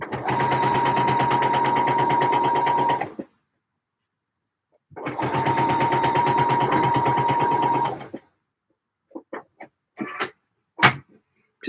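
A sewing machine stitching trouser pockets, running in two fast, loud bursts of about three seconds each with a pause between, followed by scattered short clicks and clunks of handling.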